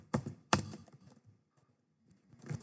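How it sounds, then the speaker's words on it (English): Typing on a computer keyboard during a lab data-entry task. Two distinct clicks sound close together, then a quiet gap, then a softer burst of keystrokes near the end. "I'm going to type in"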